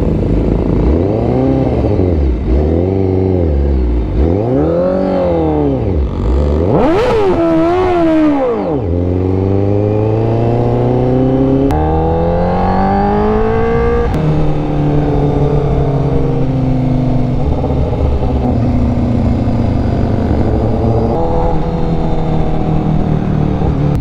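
A Honda CBR1000RR-R Fireblade SP motorcycle on a group ride roars loudly and continuously. It climbs and falls through repeated revs and gear changes, then settles into a sustained high-speed engine drone.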